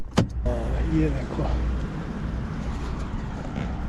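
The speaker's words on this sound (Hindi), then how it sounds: "बाहर देखो रश और ट्रैफिक रोड के ऊपर" Road traffic passing outside on a rainy day, a steady low rumble of engines and tyres on wet road, with a brief close clatter at the start and someone speaking briefly over it.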